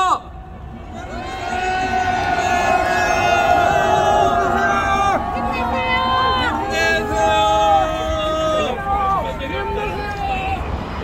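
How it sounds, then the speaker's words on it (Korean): A street rally crowd cheers and claps for bereaved families at a candlelight march, a loud sustained roar of massed voices and shouts with dense babble throughout. "우리 유가족분들에게 힘내시라고 박수와 응원의 함성 보내보겠습니다."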